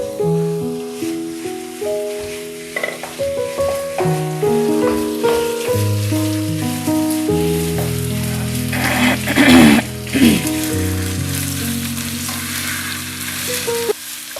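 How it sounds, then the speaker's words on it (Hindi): Chicken keema fries loudly in masala in a pan, a steady close sizzle with scraping stir strokes throughout and no talking. "वो अच्छी तरह भून लेंगे ताकि कलर इसका चेंज हो जाए।"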